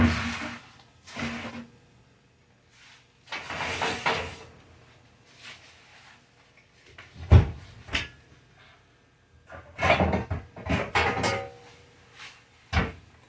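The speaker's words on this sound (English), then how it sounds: "I'm going to break up the rock candy." Hard rock candy being broken up in a kitchen pan, with sharp clattering cracks and knocks in irregular bursts separated by quiet gaps, close and moderately loud.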